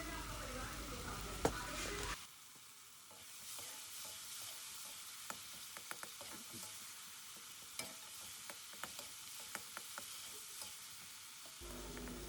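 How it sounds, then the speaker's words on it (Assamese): Tomatoes frying with salt in a pan give a soft, low sizzle with small scattered pops and occasional stirring clicks. The whole sound is faint and steady. "এইখিনি মই ভাজিম।"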